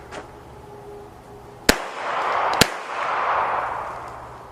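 Two sharp rifle shots spaced about a second apart, fired from a magazine of ten rounds, with echoing reverberation trailing after each report outdoors; no talking.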